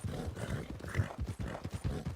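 Hooves of a horse named Smoke clop along in the Red Dead game, a quick, steady rhythmic beat of hoofbeats at moderate loudness, fairly close and continuous.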